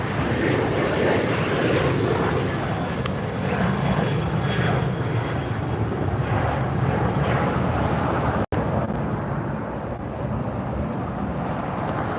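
A large jet airliner takes off at LAX airport, a loud sustained broadband engine roar holding steady throughout with wind buffeting the microphone, no talk.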